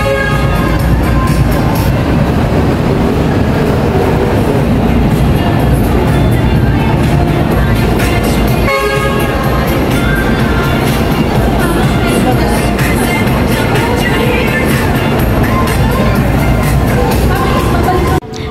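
Loud, steady hubbub at the Guadalupe-Ayala MRT metro rail station in Manila, with crowd noise, rumbling and a sharp bang midway, continuous and close throughout without clear speech.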